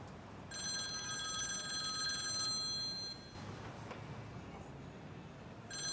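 A telephone rings with a bright bell-like trill in repeated bursts, fairly close, with a short pause before it starts again.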